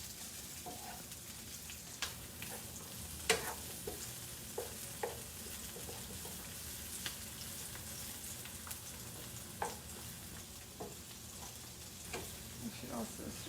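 Seasoned meat and onions sizzle in a pan for a Cameroonian ndole dish, a steady frying hiss broken by repeated scraping stirs.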